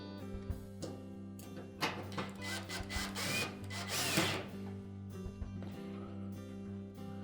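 A power driver runs a screw into a Whirlpool washer part in bursts, whirring up and down with clicks and rattles over a steady background hum.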